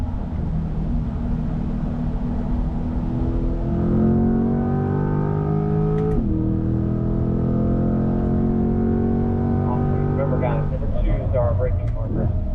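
A Corvette Stingray or Blackwing circles a Las Vegas track, its engine revving hard and climbing steadily through the gears. It gives a sharp shift or lift midway and another surge near the end, loud and close throughout.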